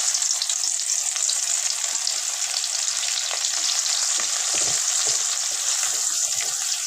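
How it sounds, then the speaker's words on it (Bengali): Chopped onions sizzle in hot oil in a pan, the same oil just used for frying rohu fish; the dense, steady frying hiss runs loud and close throughout, with no talking. "দেখুন, এই তেলেই পেঁয়াজ কুচি দিয়ে দেব।"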